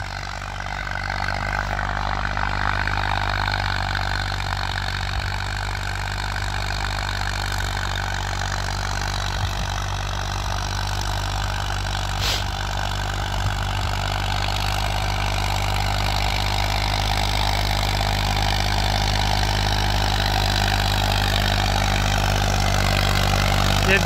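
A heavy diesel engine of a 1991 Massey Ferguson 35 tractor labours steadily pulling a cultivator, a constant low rumble with mechanical clatter that never lets up.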